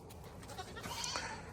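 Baby goats bleat faintly in a quiet farm setting, a couple of short, thin cries against a low background hum, with no talking.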